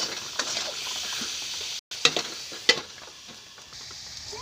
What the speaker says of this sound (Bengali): এবার আলুটা কষিয়ে নেব